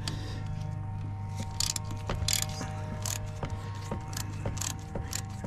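Small screws being removed from the ABS module of a 2007 Toyota Camry: quiet ratcheting clicks and light metallic ticks repeat at irregular intervals over a steady low hum.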